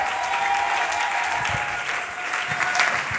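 A church congregation bursts into steady, continuous applause, many hands clapping together in a dense, even roar that fills the room, close and loud, with faint cheering threaded through and no clear speech.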